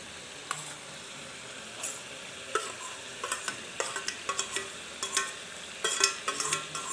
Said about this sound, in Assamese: ধুনীয়াকৈ লৰাই দিছোঁ।